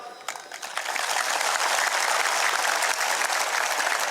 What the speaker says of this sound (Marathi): पण मला जास्त टाळ्या जोरात तिकडनं आलेत उजवीकडनं